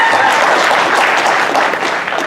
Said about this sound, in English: Thanks for that rousing applause.